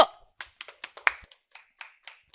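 Sparse, separate hand claps from a small audience at a teacher-exam physical education strategy session, about a dozen sharp claps in an uneven rhythm, close and moderately loud, with no talking.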